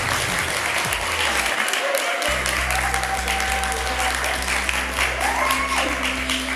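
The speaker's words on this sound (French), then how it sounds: "Finalement, Adnan a plus de succès que vous en termes d'applaudissements." Studio audience applause on a French TV quiz show, a steady dense wash of clapping that carries on throughout, with low background tones and some talk beneath it.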